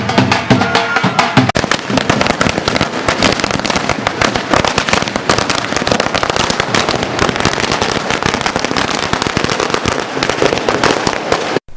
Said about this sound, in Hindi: खूब पटाखे चलाए और मिठाइयां बांटी गईं